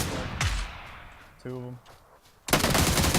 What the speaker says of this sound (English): Hear gunshots. I know it's outside of the circle.